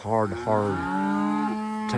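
South Poll cattle on a farm in hot, sultry August weather let out a long, loud moo that swells, breaks briefly, then carries on as a drawn-out low bellow, heard up close with no talking.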